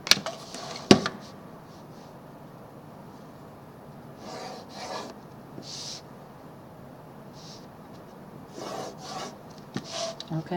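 Pencil scratching and rubbing across paper while little boxes are drawn for a technical drafting layout, with soft intermittent strokes and a few sharper taps, close and quiet.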